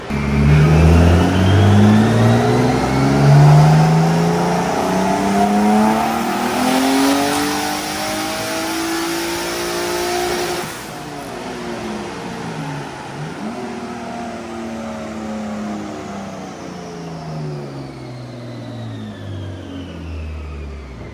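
A tuned car screams through a long wide-open rev pull on a dyno, engine note climbing steadily, then wavering and dipping as the tyres spin, loud and close with no talk.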